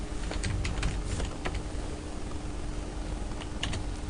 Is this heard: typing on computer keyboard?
yes